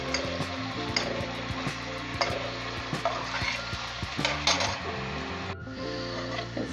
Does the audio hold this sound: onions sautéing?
yes